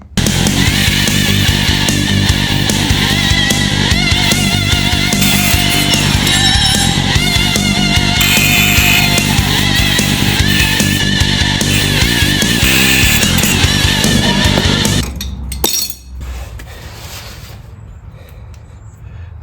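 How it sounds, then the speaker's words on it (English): A coil spring from a 1970 big block Camaro is cut with a harsh, loud power tool that grinds and screeches steadily for about fifteen seconds before abruptly winding down and stopping. "So I think I'm gonna cut like 3/4 of a coil off,"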